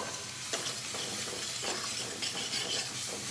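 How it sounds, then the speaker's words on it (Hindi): Peas and mushrooms frying in a pan on medium heat, stirred continuously for a curry, giving a steady close sizzle with scraping strokes of a spoon through it and no voices. "लगातार चलाते हुए भूनें मीडियम आंच पर।"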